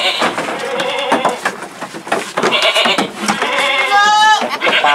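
Peranakan Etawa (PE) goat bucks on a farm bleating repeatedly and loudly close by, several overlapping calls with a long wavering bleat near the end, under talking voices.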